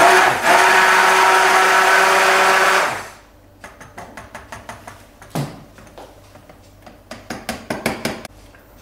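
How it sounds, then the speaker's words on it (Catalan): A hand blender mixes sobao and cheesecake ingredients in a pot with a loud, steady whir for about three seconds. Then it stops and a run of close clicks, taps and clatter follows, like the pot and utensils being handled. "amb la batedora es remena tot"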